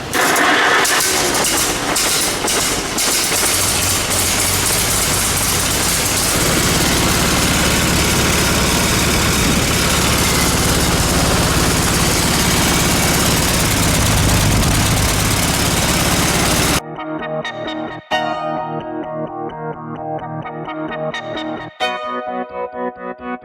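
A tractor engine idles with the choke partly set after a valve cover was refitted with a new gasket, a loud, steady low rumble that runs continuously, then drops in level for the last few seconds with a few sharp knocks.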